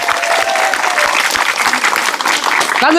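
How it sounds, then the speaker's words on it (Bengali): Loud, sustained applause from a live audience cheering on contestants at a football-kick game show, dense clapping filling the whole moment without a break. "আমাদের এই প্রতিযোগীর জন্য জোরে করে একটা করতালি হয়ে যাক"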